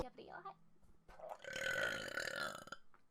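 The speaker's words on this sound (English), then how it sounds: "Usually my burps are popping because I'm a gross individual." A girl lets out a long, loud belch that rumbles for over a second, with a brief voiced sound just before it and quiet room noise around it.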